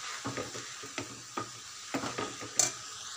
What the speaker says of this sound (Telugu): అంతా మంచిగా కలుపుకోవాలి.